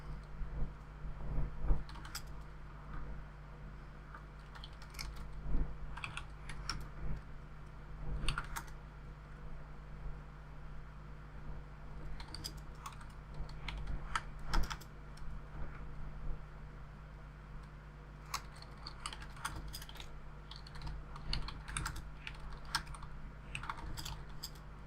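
Someone types on a computer keyboard in quick, irregular bursts of close key clicks separated by short pauses, with a steady low hum underneath and no talking.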